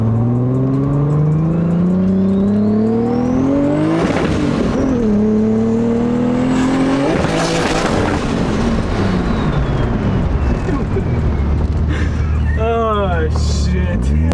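Nissan 240SX with a 550 hp RB25 engine driving on a street, loud and close, revving up through the gears with rising engine pitch, shifts, and a tire or turbo chirp near the end.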